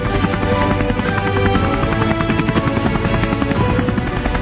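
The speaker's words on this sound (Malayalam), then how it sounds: "പരിക്കേറ്റ ടൈസണുമായി ഹെലികോപ്റ്റർ ആശുപത്രിയിലേക്ക്." A helicopter's rotor thumps steadily and loudly over a constant engine whine, close by and unbroken throughout.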